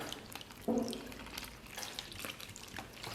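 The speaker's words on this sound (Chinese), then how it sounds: "咱们把这些肥肠给它反复抓洗一遍，去除这个肥肠上边的粘液" Pork intestines are scrubbed by hand with flour and vinegar, giving quiet wet squelching, sloshing and dripping sounds. A slightly louder splash comes near the start, then soft irregular handling noises continue close by.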